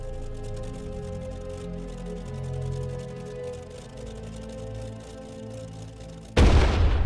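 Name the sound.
cannon fire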